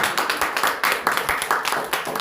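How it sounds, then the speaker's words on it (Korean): An audience at a health lecture claps in a steady, dense patter of many hands, fairly loud and close, without speech. "우리 자, 박수 한번 주세요."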